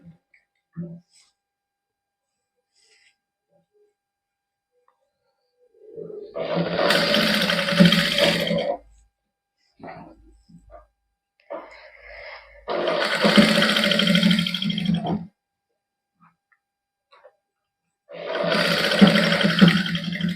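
A sewing machine stitches lace onto a palazzo in a boutique, running in three separate bursts of a few seconds each with pauses between, a fairly loud whirring mechanical rattle, with brief faint sounds in the quiet gaps.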